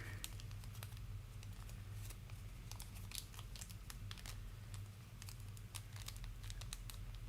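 Origami paper folded and creased into an alligator, producing a steady run of close crinkles, crisp snaps and rustles with no voice.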